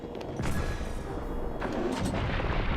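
In the Breath of the Wild video game, a bomb goes off with a heavy booming blast and a following rumble, loud and close, then a second crash-like impact a little later, with no voices over it.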